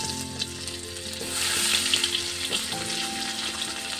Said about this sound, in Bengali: আর এখন আলুটাও বাজলো